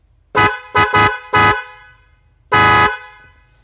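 A snail-type car horn honks in four short bursts, then one longer blast, loud and close with nothing else around it.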